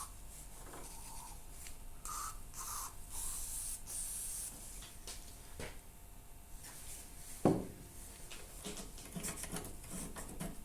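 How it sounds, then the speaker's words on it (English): Lubricant sprayed onto an AL-KO silver lawn mower, several short hissing bursts from an aerosol can, close and fairly quiet, with some rubbing and a knock partway through. "Maybe some lube down there will do us good, and also here."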